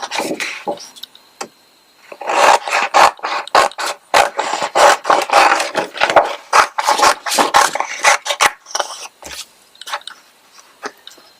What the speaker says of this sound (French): Et donc, on découpe.